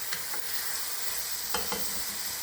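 Tomato, pepper and onion being stirred in a hot pan, with a steady sizzle and a few scraping spoon strokes against the bottom, close and clear with no talking.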